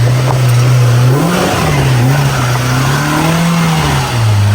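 A stock Polaris RZR Pro R side-by-side revs hard while climbing a steep trail at Black Mountain, Kentucky, its engine droning loud and close with a steady, wavering pitch throughout.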